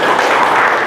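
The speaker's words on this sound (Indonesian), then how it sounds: "Tepuk tangan untuk Mas Yuwa." Students in a classroom clap for a classmate in a short, loud, dense burst of hand claps lasting under a second.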